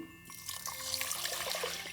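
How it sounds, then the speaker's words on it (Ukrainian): Water poured off washed poppy seeds through gauze, a steady splashing trickle into a sink or pot that starts after a brief quiet moment and runs on, close and moderately loud. "Мак помиємо і зливаємо воду."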